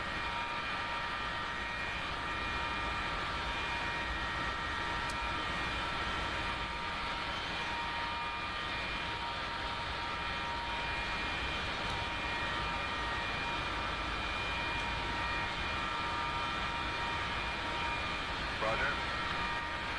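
Aircraft idling on the ground before taxi in the DCS flight sim game, a steady unbroken engine drone with a faint whine that holds level throughout.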